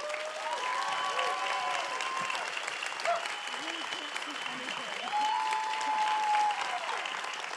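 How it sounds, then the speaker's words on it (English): An audience at a conversation event applauds the filmmakers behind the animated series Arcane, a moderate steady clapping heard from a distance, with some voices and tonal sounds mixed over it. "I'd like to give them a big round of applause"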